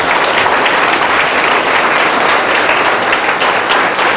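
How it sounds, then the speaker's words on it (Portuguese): A church congregation applauding during a worship service, a loud, dense and steady wash of clapping from many hands that carries through the whole stretch without a break. "aplauda ao Senhor e agradeça a Ele"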